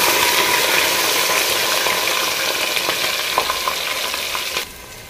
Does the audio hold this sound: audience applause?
no